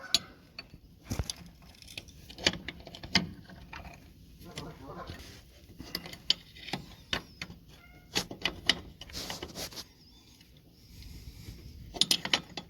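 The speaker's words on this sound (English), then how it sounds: "Now, the wrench on it." A wrench tightens a bolt on the air bag mount of a 2006 Ford 6.0 truck, giving scattered close ratcheting clicks and metallic ticks in short, irregular bursts with quiet gaps.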